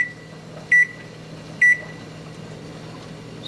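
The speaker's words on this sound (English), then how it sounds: "I'm going to set my timer for another 10 minutes" A kitchen timer being set while canning fish with a pressure canner gives three short, sharp electronic beeps, spaced about a second or more apart, over a quiet room hum.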